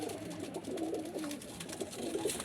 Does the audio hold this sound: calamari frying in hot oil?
no